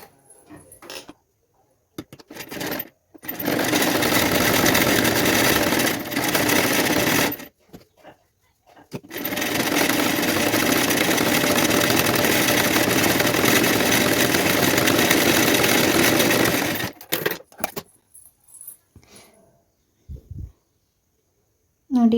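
A sewing machine stitches a folded quarter-inch blouse strip in two long, steady runs of rapid mechanical chatter, separated by short pauses and bookended by quiet handling sounds.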